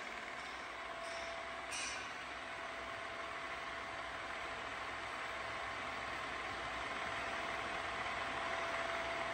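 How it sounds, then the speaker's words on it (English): MAS VR 4 radial arm drill spindle running at high speed, about 2000 RPM, in very good condition, producing a steady, even machine hum and hiss with a faint tone, constant throughout with no other noises. "As you can hear, there is no extra noise from the spindle, even at its high RPM also."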